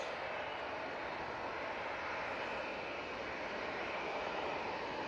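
A Ryanair Boeing 737 MAX 8 takes off from Manchester Airport, bound for Alicante: a steady, broadband jet roar, distant and fairly faint, holding level throughout with no talking.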